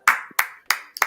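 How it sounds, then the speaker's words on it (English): Four sharp hand claps in quick, even succession, close and distinct, each with a short bright decay and nothing else around them. "Let's clap it up."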